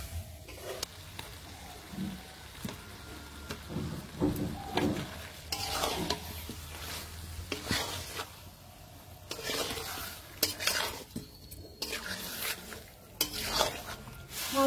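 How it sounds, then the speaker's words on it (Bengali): Chicken and fried potato being stirred and fried with whole cumin in a pot for a village-style chicken biryani, with scraping, clattering stirs and a steady sizzle throughout, fairly close and without any talk. "মাংসটা ভালো করে কষে নেব।"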